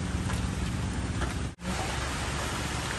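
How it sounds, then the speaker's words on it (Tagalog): Steady rain pours outside a provincial hideout, a dense continuous hiss filling the whole stretch with only a brief dip midway, and no voices over it. "Kasi ayun ang ulan."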